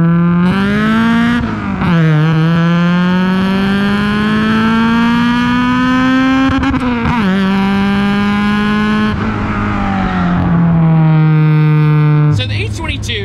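A fifth-generation Honda Prelude's H22 engine idles smoothly up close, a steady droning hum that holds level for long stretches, with a few brief dips and shifts in pitch and no rev bounce.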